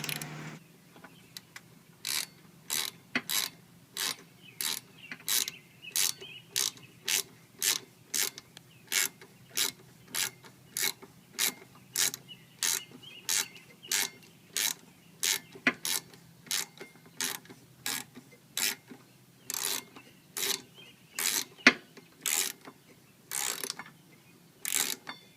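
A steady ratchet clicks in rapid, even bursts, about thirty short strokes, close and clear, as the rear brake pad pin is tightened on a 2002 Honda Shadow Sabre 1100 motorcycle.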